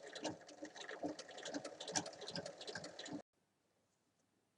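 Sewing machine running steadily as it stitches the ends of a 30 cm zipper onto fabric for a multi-pocket bag, a quick ticking patter for about three seconds, then stopping abruptly into silence.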